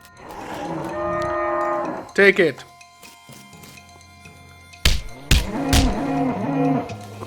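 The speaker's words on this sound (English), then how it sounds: "you're ambushed by a cow" A cow moos in the West of Loathing video game during an ambush, a long low bellow followed later by further sustained lowing, with game sound effects and a brief spoken voice in between.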